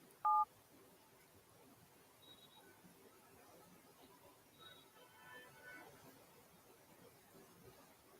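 A telephone keypad sends DTMF tones while a phone number is entered: one loud beep at the start, then a few fainter, quick tone presses over a low hiss.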